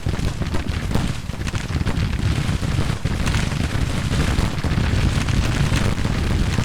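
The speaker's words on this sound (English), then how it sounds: "these artillery pieces are hopefully able to turn around and shoot the enemy" Civil War artillery booming across a battlefield in Grand Tactician: a dense, continuous rumble of cannon fire and distant explosions, steady and loud throughout, with no voices.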